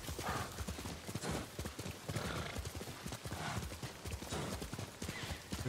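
Horse hooves clip-clopping while riding in the Ghost of Tsushima video game: a steady, fast stream of close hoof beats at a galloping rhythm, continuous with faint snorting or neighing mixed in.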